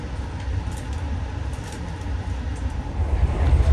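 Steady low rumble and rhythmic rattling of a new executive-class stainless steel passenger train in motion in Indonesia, heard from inside the carriage, continuous and growing slightly louder toward the end.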